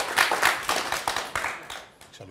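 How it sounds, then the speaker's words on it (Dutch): An audience applauds steadily in a Dutch political broadcast, with dense close clapping that swells and fades in waves for a couple of seconds, no talk over it. "even laten genieten van dit applaus"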